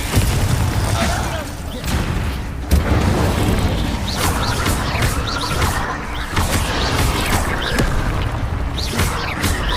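Bombarda blast spell going off in Hogwarts Legacy amid a busy magical fight: repeated booming, crashing impacts over a dense rumbling bed, loud and continuous, with a voice intoning spell names.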